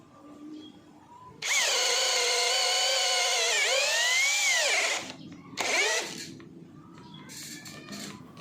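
A cordless brushless NRT Pro DC743 impact drill running on a 3000 mAh Nagawa battery whines loudly at high speed for several seconds, sags in pitch under load, then stops, followed by one short burst that quickly dies.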